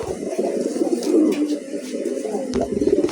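Racing pigeons kept for sale, cooing in low, throaty repeated murmurs close by, several birds overlapping in a continuous warbling burble with no voices.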